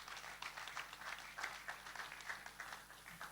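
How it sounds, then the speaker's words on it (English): Applause at a CEOs breakfast meeting for panel members: a faint, fairly sparse round of clapping from a modest audience, heard at a distance and lasting a few seconds without speech. "let's put our hands together for our panel members"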